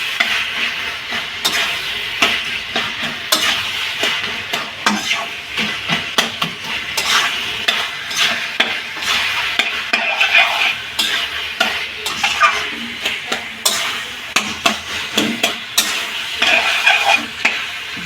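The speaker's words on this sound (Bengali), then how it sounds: "একটু খুন্তি দিয়ে মাখা মাখা কাদা কাদা করে দেবেন।" A spatula repeatedly stirs and mashes green chilies into a simmering vegetable curry in a pan, with steady sizzling and frequent scraping clacks of metal on the pan, loud and close, with no voices.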